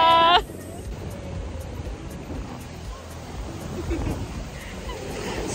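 Cold Pacific Ocean surf rolling onto a beach, a steady wash of breaking waves with gentle swells, moderately distant, after a brief burst of sound at the very start.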